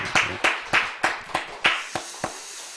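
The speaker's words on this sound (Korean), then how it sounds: "하나님께 영광의 박수 우리 올려드리겠습니다." Church congregation clapping at a Friday late-night prayer meeting: about eight distinct, fairly spaced claps in a short, slightly uneven burst, moderately loud and close, with no talk over them.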